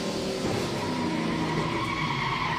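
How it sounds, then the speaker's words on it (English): A NASCAR Pinty's Series stock car locks its tires and skids during a race at Canadian Tire Motorsport Park, a sustained loud rough screech over engine noise with no voices. "And Lacroix locked up those tires"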